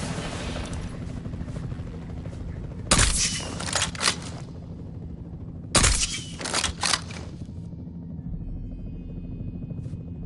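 Two loud bursts of rapid gunfire ring out in Jurassic World Evolution 3, each a quick cluster of sharp shots, over a steady rotor-like engine drone.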